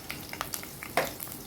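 Cumin seeds and green chillies hit hot oil for tempering, giving a short burst of crisp crackles and pops that sizzle close by with no talk.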